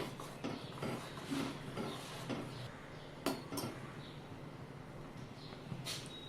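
A pot of finger millet (ragi) flour being stirred as it cooks for a cooling summer drink, quiet scraping and clinking of a spoon against the pot in an irregular rhythm, with a few sharper taps.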